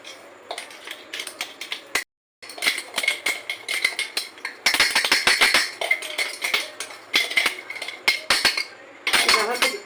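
A metal spatula scrapes and clinks against a pan while stirring Gobindobhog rice for sandesh, making rapid, irregular metallic taps and scrapes in close bursts, with one brief silent pause.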